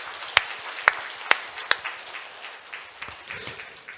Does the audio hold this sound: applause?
yes